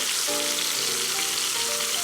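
Constant crackling sizzle of pot roast meat searing in a hot Instant Pot, steady and close throughout.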